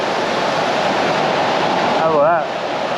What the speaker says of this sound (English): There's so much water running over these falls. This is Zumstein Falls.